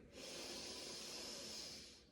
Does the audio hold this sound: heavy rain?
no